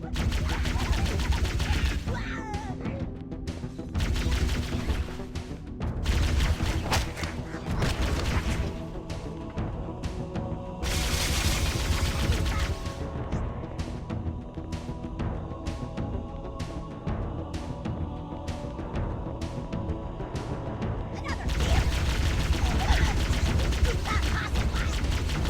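Continuous gunfire in Halo: Combat Evolved, including a grenade blast during the Two Betrayals mission, with bursts of rapid shots and heavy booms filling the whole stretch.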